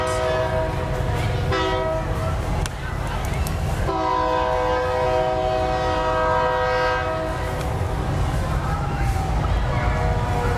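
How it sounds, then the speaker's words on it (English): A train whistle blows in long, steady harmonic blasts, sounding twice with a short break, over a constant low rumble of crowd and street noise at the 2016 Tri-Rivers Fair Parade in Salina, Kansas. "The train whistle was a sound I didn't normally expect to hear during the parade."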